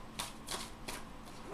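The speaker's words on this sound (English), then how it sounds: "these are big cards, Sag, so it's a little bit harder to shuffle" Oversized tarot cards are shuffled by hand at close range, making four quick papery riffling bursts in a steady rhythm against a quiet room.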